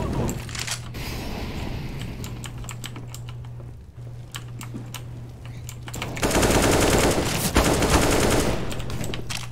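An MP7 submachine gun fires in CS:GO in rapid clattering bursts, with the loudest stretch near the end, mixed with close keyboard clicking.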